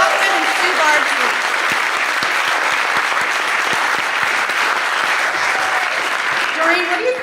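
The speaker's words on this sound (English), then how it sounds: "Can we have another round of applause for the incredible Studio East cast, as well as Lonnie Brockman and Sue Bardsley." Audience applause for a stage cast at a hall-of-fame induction event for a retiring councilmember, sustained dense clapping from a sizable crowd with a few voices faintly audible at the edges.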